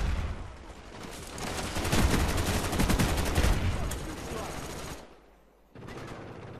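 Dense rapid gunfire from a Call of Duty Black Ops multiplayer team deathmatch on the Nuketown map, loud bursts running several seconds before cutting off, then a quieter resumption of game sound with a voice talking underneath.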